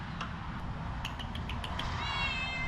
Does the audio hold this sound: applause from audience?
no